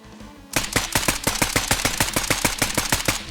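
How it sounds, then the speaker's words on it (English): An Asval suppressed rifle in the Squad video game fires a fast, steady burst of muffled, evenly spaced shots that stay loud and close for about three seconds. "the Scout class that comes equipped with the Asval suppressed rifle that sounds really lovely"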